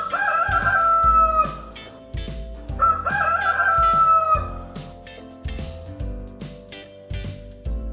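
A rooster crows loudly and close by, two full cock-a-doodle-doo calls in a row, layered over a choppy rhythmic backing of low thumps.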